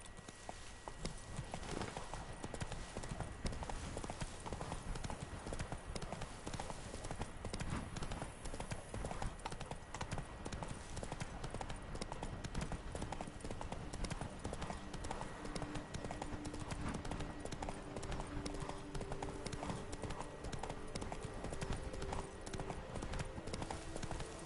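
The horse Roach galloping in The Witcher 3, quick, steady hoofbeats drumming throughout over a dense, loud game soundscape.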